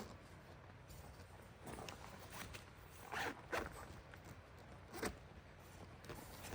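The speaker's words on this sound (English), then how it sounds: "Yeah, see the zippers?" Zippers on a Walmart wall tent are pulled open in several short, quiet rasping strokes, fairly close and faint against a low background, with no talking.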